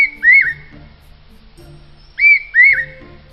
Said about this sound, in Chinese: 这是鹰鹃的啼叫，